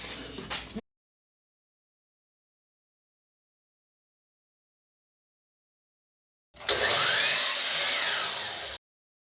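A power saw making a miter cut through crown molding, a brief loud whine that starts abruptly, runs for about two seconds and cuts off, after a short burst at the start and near silence in between.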